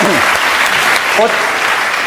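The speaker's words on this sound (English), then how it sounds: "Give him a round of applause." A studio audience applauds on a comedy panel show, steady dense clapping throughout at close range, with a brief voice heard under it.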